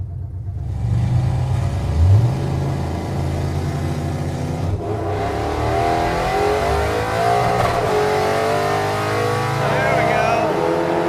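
A nitrous-equipped muscle truck launching on a drag strip, its engine roaring and revving hard as it builds speed, then a loud, sustained rising engine note, with voices faintly audible behind.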